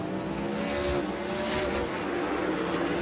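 A NASCAR race car engine at Busch Clash practice roars close by, easing off and then building again in a steady drone, with faint hints of tire noise and no voices.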